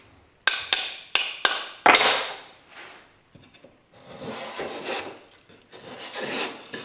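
Molding plane taking heavy freehand cuts in wood: four sharp rasping strokes in quick succession, then softer, longer shaving strokes, close and loud with no talk.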